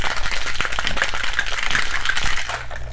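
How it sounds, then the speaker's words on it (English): Ice and a chocolate reishi martini with milk and powder shaken hard in a cocktail shaker, a steady close rattle of rapid, repeated knocks lasting the whole moment, loud and with no voices over it. "shake it really good"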